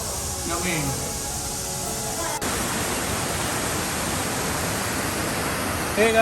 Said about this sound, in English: welcome to Kantapara waterfalls